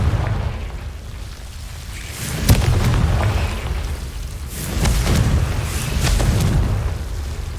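Confringo blasting spell exploding in Hogwarts Legacy: several sharp booming bursts with rumbling low-end tails, spread over a few seconds against a dull background roar.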